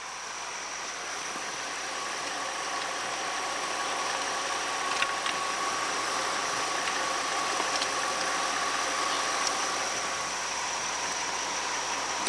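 A car engine idling after starting, during a fluid-exchange check on the vehicle, with a steady, even mechanical hum and faint high whine throughout and no voices.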